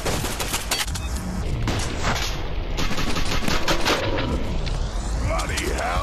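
Rapid pistol fire in the VR shooter Stride crackles in a dense, continuous volley of sharp reports layered over game ambience, loud and close throughout.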